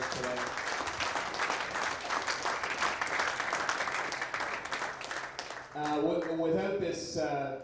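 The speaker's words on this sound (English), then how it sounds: "So a huge round of applause for all of you for coming" An audience at the Cambridge Cup squash tournament final applauds in a dense, sustained wash of clapping that fills the hall for several seconds before a voice begins speaking over the fading claps.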